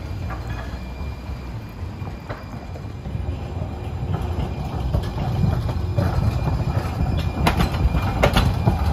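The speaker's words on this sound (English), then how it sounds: "Opposite side of the street now as the train heads into the tunnel." A San Francisco Muni Metro train rolls past close by on a street, heading into a tunnel, its rumble building steadily with clacking wheels and faint squeals, loud and continuous without any talking.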